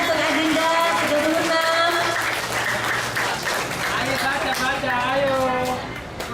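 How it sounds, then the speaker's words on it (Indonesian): An audience applauds at a Madurese-language poetry reading contest for primary school children. The clapping is steady and sustained and fades slightly toward the end, with voices chattering underneath. "ayo tepuk"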